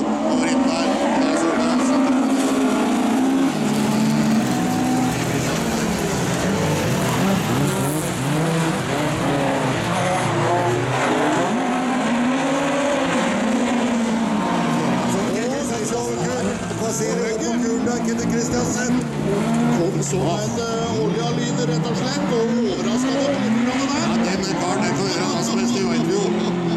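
Cars race in a Super 4 class heat at Fuglehaugen, engines roaring and rising and falling as they pass, with tyre squeal, under continuous excited commentary.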